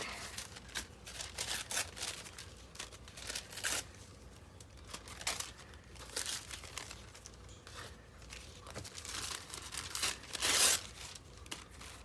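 Paper being torn up by hand for a mixed media craft background, a run of close, repeated ripping bursts with crinkling in between, steady throughout with no talk.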